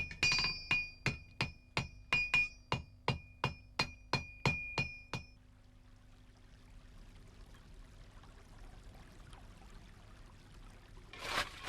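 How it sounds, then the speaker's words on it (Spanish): A blacksmith's hammer strikes an anvil in a forge in a steady rhythm, a dozen or more bright ringing clangs, then stops, leaving a low hum and faint noise. "el impecable sonido del martillo sobre el yunque"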